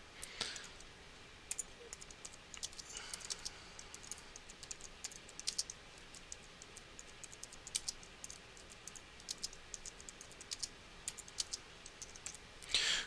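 Quiet, close keyboard typing as a blog post title is entered on a computer, irregular clusters of soft clicks and taps with brief pauses between bursts.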